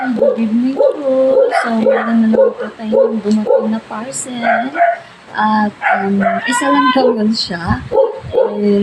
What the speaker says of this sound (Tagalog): pasensya na po sa ingay ng paligid, yung aso, tumatawag.